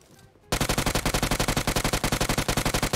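Rapid automatic gunfire in a video game sprays at a bot, loud close shots in a steady fast rhythm of roughly a dozen per second, starting abruptly after a brief quiet moment.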